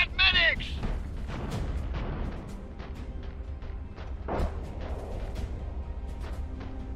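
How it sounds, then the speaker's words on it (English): Gunfire and artillery booms from a real-time strategy battle in Iron Harvest, a steady rumbling stream of distant thuds and shots with game announcer voice lines over it. "They are shooting at medics!"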